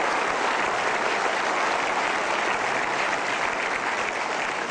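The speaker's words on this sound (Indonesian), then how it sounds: "Oke, kita berikan aplaus dulu." An indoor audience claps steadily at a motivational talk, a dense, even wash of applause that stays loud and unbroken from start to finish with no voices over it.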